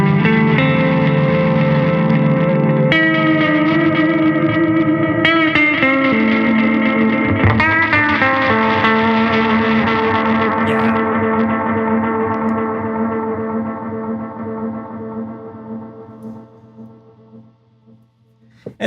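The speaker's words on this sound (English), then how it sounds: "You can hear that really, really great tape degradation sound on there." Electric guitar through an Alexander Pedals Forget Me Not multi-head stereo delay with tape degradation, slow ringing chords and low notes smeared into warbling repeats that trail off and fade alone, loud and close.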